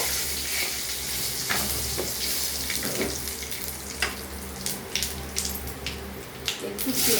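Bay leaves and cumin seeds sizzle in hot oil in a home kitchen, a steady frying crackle with scattered sharper pops and brief stirring clatters growing busier toward the end.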